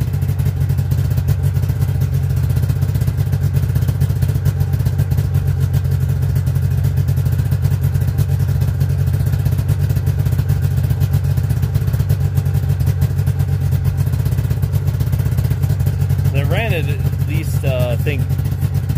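A snowmobile engine idles steadily at close range with a constant low hum and rattle, holding the same level throughout, with a couple of faint higher chirps near the end.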